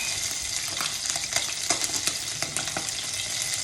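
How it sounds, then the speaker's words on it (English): Fish sizzling and crackling steadily in hot oil for Bengali Tel Koi, a dense close frying hiss with scattered sharp pops and spatters throughout, no voices. "My fish is fried."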